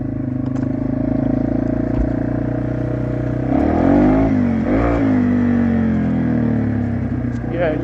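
Yamaha TW200 motorcycle pulling at full throttle in first gear, its engine note climbing sharply midway then dipping and rising again, loud and close with clattery mechanical noise throughout.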